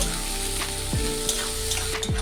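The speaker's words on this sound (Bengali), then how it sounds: "আদা আর পেঁয়াজ দিয়ে একটু ভেজে নেব" Steady sizzling of ginger and onion frying in a hot pan, with a couple of soft scraping stirs; close and continuous, no talking.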